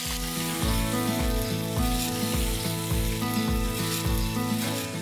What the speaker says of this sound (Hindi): ये चिकन को इस तरह से जस्ट पैन फ्राई करना है